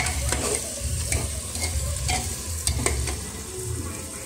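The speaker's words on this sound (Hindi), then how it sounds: "हम अपने मसाले को भूनेंगे" Spices roasting in a hot pan for aloo matar tahri, a steady close sizzle with repeated scraping stirs of a spoon against the pan throughout.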